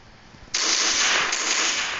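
A single gunshot fired by accident in Roblox Brookhaven, a sharp broadband burst that cuts in abruptly after a quiet start and rings on as a sustained hiss to the end.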